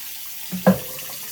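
Water from a newly installed faucet splashes briefly into a sink with a pop-up drain, a short soft gush and splash at close range in a quiet room.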